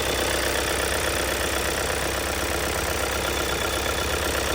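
A 2021 Skoda Superb Scout 4x4 engine idles warm with a steady, even rumble, continuous and close, with no other sounds.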